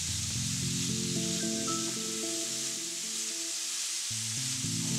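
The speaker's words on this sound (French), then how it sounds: "Versez les chou-fleurs, faire sauter une minute." Cauliflower florets sauté in a hot pan with a constant, even sizzle, heard beneath a melodic music track throughout.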